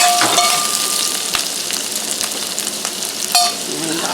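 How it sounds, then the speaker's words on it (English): Onions and garlic saute in a pan for a chicken curry, a steady close sizzle with occasional scraping stirs and soft clinks, no talking. "we'll just saute our onions and garlic"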